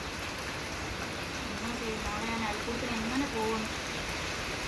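Steady rain falls on surfaces as an even, faint hiss filling the whole stretch, with a voice talking softly underneath.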